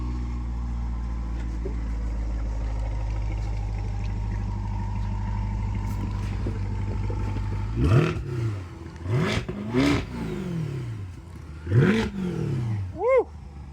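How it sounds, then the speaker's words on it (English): A 2023 Corvette convertible with Lingenfelter work idles with a low steady rumble, then gives several short rising revs near the end, close and fairly loud. "Yeah, rev it up just a little bit."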